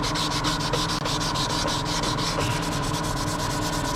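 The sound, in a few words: sanding metal with P600 sandpaper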